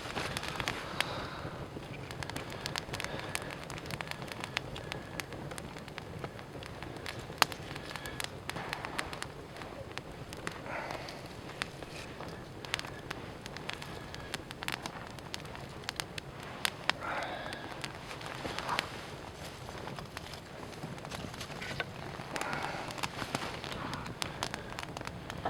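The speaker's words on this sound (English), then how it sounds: "All right, we have fire." A campfire of partly damp wood crackles outdoors at a campsite, a steady bed of soft hiss broken by frequent sharp pops and snaps, fairly faint and heard with no talk over it.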